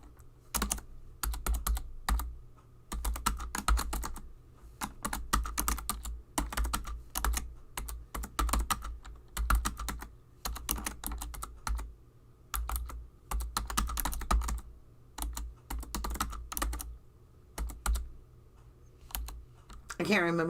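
A computer keyboard clatters through a note in long, steady runs of close keystrokes, broken by a few short pauses, with talk happening across the typing.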